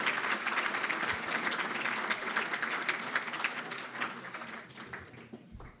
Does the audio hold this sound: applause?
yes